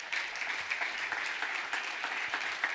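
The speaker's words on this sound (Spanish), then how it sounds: "dale ese aplauso con fuerza" Applause from a church congregation during a Friday evening service, a steady crackling clatter of many hands clapping together, moderately loud and sustained throughout with no talk over it.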